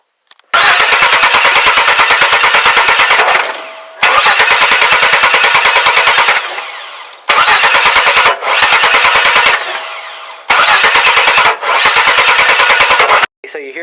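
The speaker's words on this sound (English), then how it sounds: "So you hear all that popping sound backfiring back through the intake" A Chevy 4.3 V6 engine pops and backfires through the intake in loud, rapid bursts of crackling, several cranking attempts lasting a few seconds each, separated by short silences.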